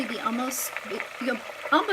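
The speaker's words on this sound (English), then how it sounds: "the water and the milk solids are still boiling off" Butter simmering in a pan while being cooked down into ghee, with water and milk solids boiling off, gives a soft, continuous crackling sizzle under a person talking.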